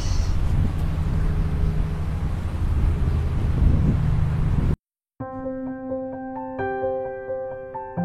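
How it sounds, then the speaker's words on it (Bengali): Strong coastal wind at a Sri Lankan seaside spot roars as a loud, steady low rumble of wind buffeting the microphone for nearly five seconds, then cuts out abruptly and gives way to tonal music. "এখানে খুব বাতাস"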